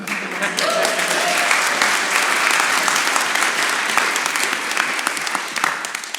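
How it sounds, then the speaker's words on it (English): A debating audience at the Oxford Union breaks into sustained applause, a dense, even wash of many hands clapping close and loud for several seconds before tapering slightly at the end. "You didn't have to clap at that, but there we are."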